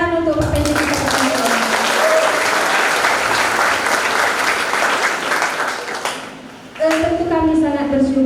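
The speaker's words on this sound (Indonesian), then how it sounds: "Tepuk tangan untuk Pak PJ kita." Loud, sustained clapping from a crowd at a civil engineering regional assembly, greeting an official and swelling evenly for several seconds, with a voice speaking over it at the start and again as it fades.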